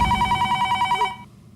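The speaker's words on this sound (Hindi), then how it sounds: "चाचा जी को फोन करते हैं।" A telephone rings with a steady run of quick, evenly pulsed electronic trills, close and clear, then stops abruptly and fades to quiet.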